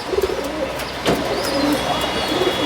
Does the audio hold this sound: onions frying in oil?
no